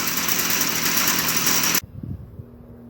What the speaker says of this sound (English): This is a FS38 trimmer.